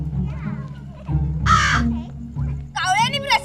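A crow caws loudly in two bright bursts over the speech and background sound of a Hindi-language TV drama scene.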